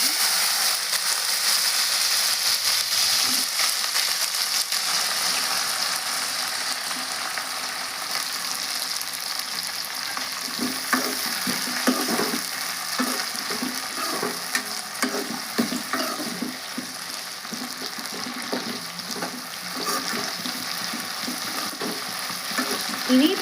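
Prawns fry in hot oil in a pan for an egg curry, with a loud, steady sizzle and crackle that runs unbroken throughout, broken only by occasional scraping stirs.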